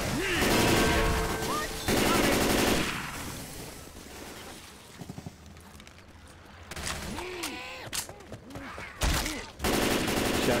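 Gunfire in the video game Left 4 Dead 2, with loud bursts of shots and crashes coming in clustered volleys separated by quieter gaps, mixed with game effects and occasional voices.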